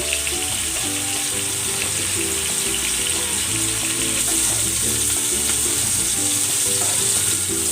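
Pork steak frying in cooking oil gives a loud, steady, unbroken sizzle that crackles close up for the whole stretch, with no talking.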